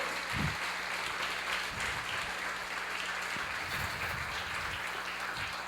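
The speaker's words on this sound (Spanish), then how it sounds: "Si tú lo crees, dale un aplauso al Señor." A church congregation claps steadily during a Spanish-language worship service, sustained applause with scattered louder claps and a few faint voices underneath.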